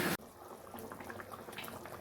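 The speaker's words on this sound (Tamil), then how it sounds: "குழம்பு கெட்டித்தன்மை அந்த தண்ணியாகவே இருக்கும்" Okra and tamarind curry bubbling in a pot, a steady soft simmer with small popping bubbles after a brief loud knock at the start.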